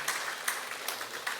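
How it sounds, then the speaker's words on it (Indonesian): Guests at a church wedding ceremony give a short round of applause for the choir, a soft, steady patter of clapping heard from a distance in a reverberant hall. "kita beri tepuk tangan sekali lagi Bapak Ibu"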